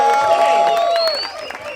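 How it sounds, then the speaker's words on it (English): Crowd at a supercar event in Miami clapping and cheering, with raised voices and whoops over scattered applause, loud at first, then thinning out toward the end. "give him a big hand of applause"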